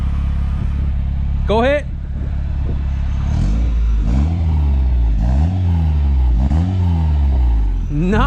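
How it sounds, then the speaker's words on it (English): Turbocharged Honda CR-V engine revving at close range, several loud rising and falling throttle blips over a steady idle, with a person speaking briefly beneath the engine. "Can you rev it a little bit for me in the back?"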